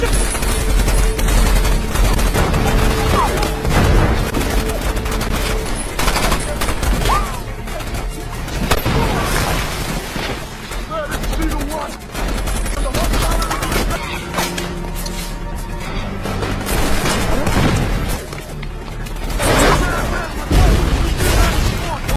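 Heavy gunfire erupts in a jungle firefight from the film Tears of the Sun, dense automatic bursts and booming explosions layered with dramatic score, loud and continuous, with a narrator talking over parts of it.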